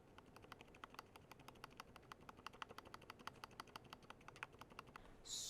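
Fast typing on a mechanical keyboard with fixed stabilizers: a dense run of crisp, close key clicks, with occasional louder thocks from the larger keys.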